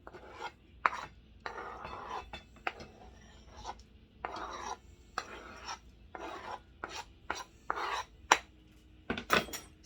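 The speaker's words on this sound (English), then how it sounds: "I'm going to add them to my sugar cinnamon mixture" Sliced peaches are tossed into a sugar and cinnamon mixture in a bowl for a peach cobbler cheesecake, producing bursts of scraping, rubbing and wet stirring sounds separated by brief pauses, close and fairly quiet.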